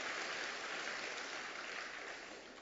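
A church congregation applauds during a Sunday morning service, a dense, even patter of many hands clapping together that holds steady and then softens slightly at the end.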